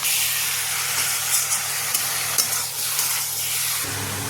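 Marinated chicken hits a hot pan with fried onions and capsicum and sizzles with a loud, steady hiss close up, with faint stirring scrapes mixed in.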